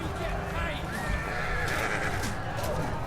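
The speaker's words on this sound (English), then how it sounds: "Some horses going down in the midst of combat." Horses whinny and neigh amid a cavalry melee in Total War: Attila's Age of Charlemagne campaign, with hoofbeats and battle clamor layered underneath throughout.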